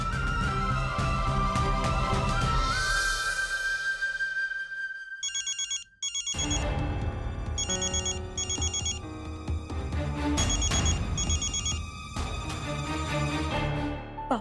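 A telephone rings in a Hindi family drama: a repeating electronic ringtone, loud and close, plays with a musical score. It drops out briefly near the middle, then resumes over the music.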